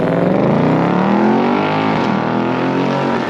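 A 2024 Ford Mustang GT fitted with a Magnaflow exhaust at wide open throttle, a loud continuous V8 roar that climbs steeply in pitch over a few seconds, heard close with no talking.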